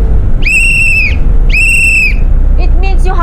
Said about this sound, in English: if you hear this whistle once